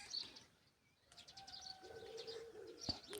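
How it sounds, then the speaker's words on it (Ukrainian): Starlings sing near their nest in a dry apple tree in a village yard, with whistles and chirps at moderate distance, a cooing call mixed in, and a brief sharp snap near the end. "Шпаки у нас виспівують."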